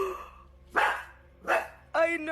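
A dog barks three times at a steady pace, close and loud, each bark short and sharp, with quiet gaps between them.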